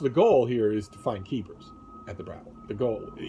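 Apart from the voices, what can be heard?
No everyday noises stand out.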